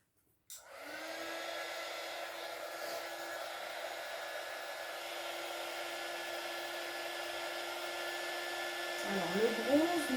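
Heat tool warming embossing powder on paper, a steady close fan-and-heater whoosh that switches on sharply and runs unbroken for about ten seconds, with faint rustling near the end.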